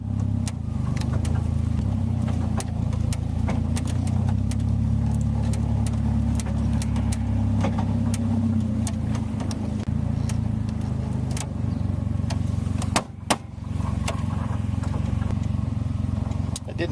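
Motorcycle engine drones steadily while riding on a road, a loud continuous low rumble throughout with wind noise and a brief dip near the end.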